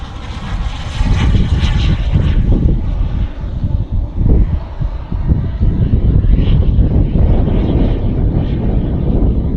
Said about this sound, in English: This is powered by a Jetmux 160, which is an old engine.